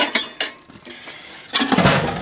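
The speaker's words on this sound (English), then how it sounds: "can slide the stove in and out." A metal Survivor rocket stove slides in and out beneath an oven in an outdoor kitchen, giving a few scattered metallic clinks, then a louder scraping, rattling clatter near the end.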